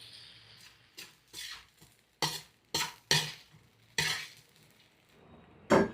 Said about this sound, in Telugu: ఇప్పుడు నీళ్ళలో నానబెట్టి పిండుకున్న ఈ మరమరాలు వేసుకుందాం.